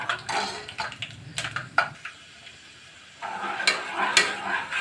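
Peanuts frying in a pan and stirred with a utensil, bursts of scraping and clinking with a light sizzle, a short quieter pause in the middle, then more stirring, close and moderately loud.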